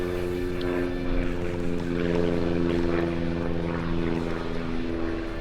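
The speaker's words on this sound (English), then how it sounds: "There's that- an airplane." A propeller airplane drones overhead outdoors with a steady, humming engine tone that holds throughout at moderate loudness, with no talking.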